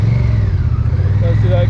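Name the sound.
Honda Rebel 1100 motorcycle engine accelerating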